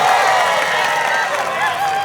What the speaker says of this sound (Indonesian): Tepuk tangan sekali lagi untuk mereka